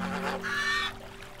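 Loud goose-like honking of a swan in the video game Everything, a few nasal honks running together over a low steady hum, with no talking.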